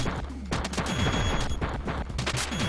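Rapid, dense bursts of shotgun and gunfire from the video game Retro City Rampage, loud and continuous with overlapping booming blasts and crashes throughout.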